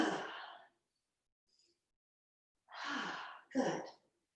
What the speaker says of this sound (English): Take 3 breaths, go.